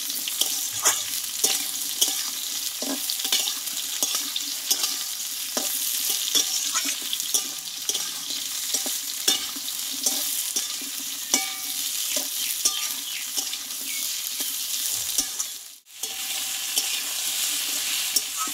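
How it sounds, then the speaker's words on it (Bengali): Ridge gourd and potatoes sizzle steadily in a hot pan as a spatula stirs and scrapes them in regular strokes, close and even, with one brief pause and no talking. "এবার আলুর সঙ্গে ঝিঙেটাও আমি কিছুক্ষণ কষিয়ে নেব ভালোভাবে।"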